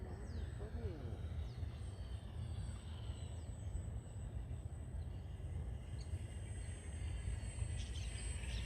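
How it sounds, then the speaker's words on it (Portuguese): Radio-controlled model airplane on its first flight, a steady droning propeller and motor heard from a distance over constant outdoor hiss, with no pause. "Esse é o primeiro voo do aeromodelo"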